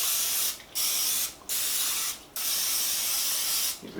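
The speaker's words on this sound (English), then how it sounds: "next we're going to spray down our baking dish with some no stick" Non-stick cooking spray hisses from a can onto a baking dish in three steady bursts with short pauses between, then a fourth starting at the end, close and fairly loud with no talking.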